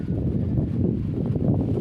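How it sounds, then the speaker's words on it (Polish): Strong wind buffets the microphone in a steady low roar on an open-air pigeon loft site, continuous and loud throughout with no talk. "dziś jest bardzo mocny wiatr"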